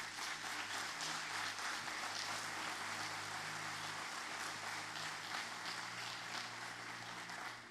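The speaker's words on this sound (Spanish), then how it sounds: "Dele un fuerte aplauso a Jesús." A church congregation applauds in sustained, steady clapping that fills the room evenly from start to finish.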